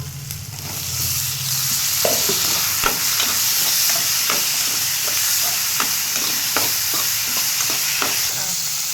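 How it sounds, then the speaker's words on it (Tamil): Tomato and green chili sauté in a pan for a dried fish curry, giving a loud, continuous sizzle with frequent rhythmic scrapes and taps of a spoon stirring close by. "இப்போ வந்து தக்காளியும் பச்சை மிளகாயும் சேர்த்துக்கலாம்."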